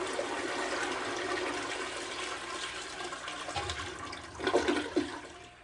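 An antique 1910s toilet flush plays out as a long, steady rush and gurgle of draining water that swells near the end with a few louder surges before tapering off, heard close up with no speech.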